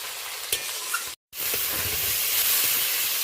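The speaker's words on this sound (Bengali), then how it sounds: "পেঁয়াজ টমেটো কাঁচা লঙ্কা ফোড়নের সাথে চিংড়ি মাছটা বেশ ভালো করে আমি কষিয়ে নিলাম।" Prawns sauté with onion, tomato and green chilli in a pan, producing a steady close sizzle and hiss with light stirring sounds, briefly cut by a short silence, with no talking.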